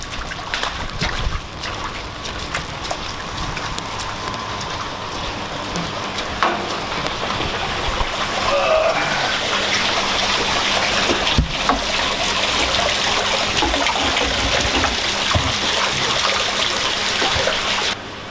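Steady rushing and trickling of water runs throughout, a continuous wash of flow with faint splashing, as water is pumped from a hose into a tank.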